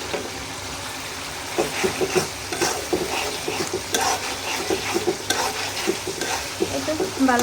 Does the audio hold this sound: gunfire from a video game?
no